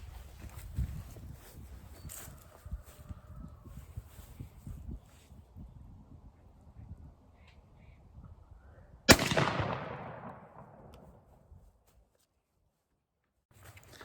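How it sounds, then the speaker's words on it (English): A single loud shotgun blast from a Browning A5 fired at a 30-yard target cracks sharply after a stretch of quiet handling and shuffling sounds, then its echo decays over a couple of seconds into near silence. "We're gonna shoot it at 30 yards and see what it looks like."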